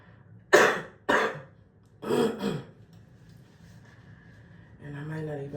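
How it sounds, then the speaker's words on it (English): Three hoarse, chesty coughs come close together near the mic, followed by a pause and then a brief spoken voice. "I still got this bad-ass cough"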